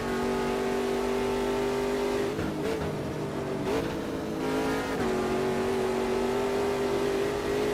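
Ginetta G58 prototype race cars from Automobilista 2 racing at Brasília, a loud, steady engine drone holding one pitch, with brief downshift dips and re-rises around the middle and a sustained roar throughout.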